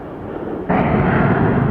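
A Frontier Airlines airliner engine roars as a jet at Atlanta Hartsfield-Jackson, a broad steady rumble that suddenly jumps louder partway through and holds, loud and close, with no voices.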